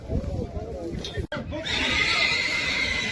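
A horse at a livestock market in Almaty lets out a loud, close whinny with wavering pitch, followed by a sharp snort and continuing crowd noise and voices.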